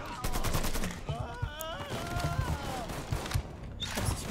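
Gunfire in a Mafia III shootout, a fast string of sharp shots and bursts over mixed game sounds and background noise, close and continuous for the few seconds.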